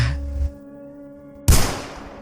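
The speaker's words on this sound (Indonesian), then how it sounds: "Suara tembakan yang terdengar kuat dari tangga." A loud, sharp gunshot bursts out suddenly from a stairway after a low rumble and a humming tone, then trails off in a noisy echo.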